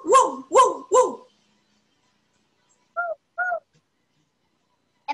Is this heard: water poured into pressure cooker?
no